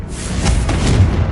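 A blasting-spell explosion in Hogwarts Legacy: a loud, booming burst of low rumble that swells and holds for about a second and a half, with no speech over it.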